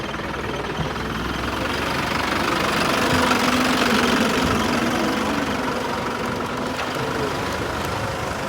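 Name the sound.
tractor engine pulling fishing boat ashore on beach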